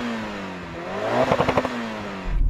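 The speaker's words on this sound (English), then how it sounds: "Go on, rev it up." A Mitsubishi Evo 6 engine revs hard from a steady idle, climbing into a loud, rasping pulse of rapid blips before settling back, with crackles from the exhaust, heard up close with no talking.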